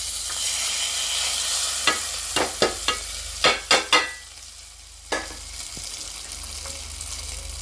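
A hot tempering is tipped into a chutney and stirred in, giving a short sizzle followed by a string of sharp scraping and clinking stirring strokes, close and without talk.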